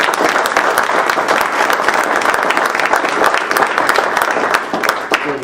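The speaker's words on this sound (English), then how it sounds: "Let's give them another round of applause" A city council meeting audience gives sustained, dense applause, loud and steady throughout with no talk over it, fading slightly at the very end.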